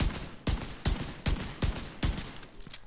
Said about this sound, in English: the fire rate on this fucking revolver is great